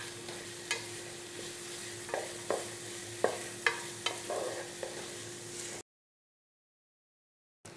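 Coconut pieces and curry leaves sautéing in a pan over medium flame for a Kerala mutton curry, a steady soft sizzle broken by a series of sharp spoon scrapes and stirring knocks, then sudden silence.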